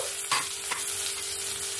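Onion and tomato sizzling steadily in a frying pan, with a couple of sharp scraping clinks as the food is stirred, close by and moderately loud.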